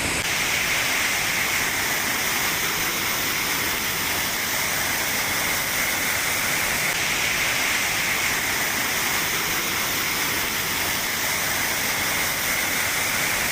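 A jungle waterfall on the Sonaichhari trail roars as a steady, loud, unbroken rush of falling water with no voices.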